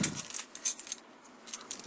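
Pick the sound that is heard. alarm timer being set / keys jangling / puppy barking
keys jangling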